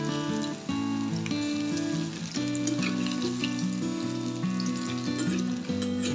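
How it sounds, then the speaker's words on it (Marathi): Spicy Kolhapuri-style chicken 65 sizzles in a pan over high flame, a dense continuous frying hiss running evenly throughout, loud and close, with a steady tonal hum underneath. "आता मी ह्याला दोन मिनटं हाय फ्लेमवर छान परतून घेणार आहे आणि नंतर क्रिस्पी होईपर्यंत लो फ्लेमवर"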